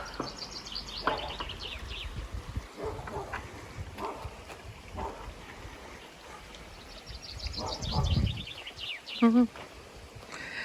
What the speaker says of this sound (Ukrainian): Боже, як пташки співають.